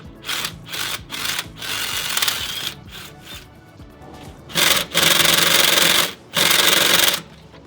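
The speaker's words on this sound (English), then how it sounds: "Loosened it up a bit with the ratchet." A ratchet loosens timing belt tensioner bolts on a Lexus IS300's 2JZ-GE engine, giving a series of short raspy ratcheting strokes in uneven bursts, close and fairly loud, with no talking.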